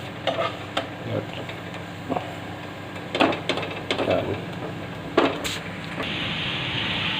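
A stuffed paneer paratha sizzles steadily on a hot griddle, with scattered taps and scrapes as its edges are pressed down while it cooks.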